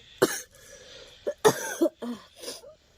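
A person sick with fever coughs close to the microphone, giving several harsh, separate coughs spread over a few seconds with quiet breaths between them.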